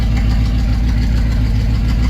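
A hot engine idling at about 30 oil pressure, a loud, steady low-pitched rumble that holds even throughout, close up with no voices.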